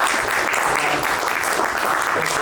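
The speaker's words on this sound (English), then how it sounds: "One more round of applause for the panels" An audience at a community forum panel applauds in a dense, steady wash of clapping, loud and sustained with no pauses.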